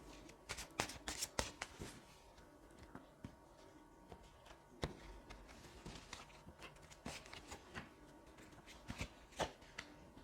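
A deck of oracle cards is shuffled by hand in a quiet room, giving repeated soft riffling and slapping bursts at an irregular rhythm, close and fairly faint, with no talking.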